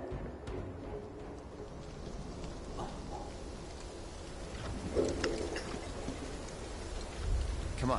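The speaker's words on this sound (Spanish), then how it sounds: "ya empezó a llover" Steady rain falls in a Final Fantasy 7 Rebirth game scene, a soft continuous hiss with scattered droplet patter and a faint low rumble, moderately quiet throughout with no voices.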